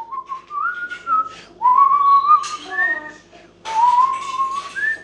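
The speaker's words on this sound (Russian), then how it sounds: "Не свисти в доме!" A person whistles a melody indoors, bright wavering tones in three phrases separated by short breaks, close and fairly loud with no talking.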